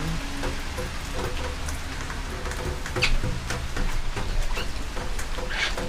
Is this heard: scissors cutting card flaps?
no